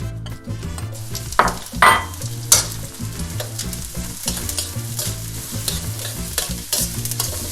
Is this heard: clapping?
no